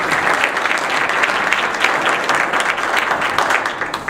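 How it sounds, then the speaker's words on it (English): Audience at a town candidates night breaking into applause, a full, steady patter of many hands clapping close by that holds for several seconds before tapering slightly at the end. "so please, a round of applause."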